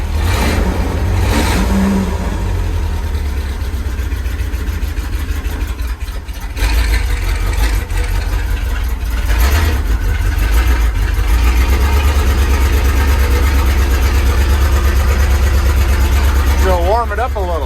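Engine of the homebuilt Wheelie Bago vehicle, dusty from sawdust inside, catches and runs with a loud, steady mechanical drone and revving throughout, heard close from the cockpit.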